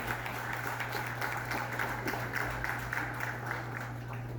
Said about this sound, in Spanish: Vamos a darle un fuerte aplauso al cura Alberto Blanco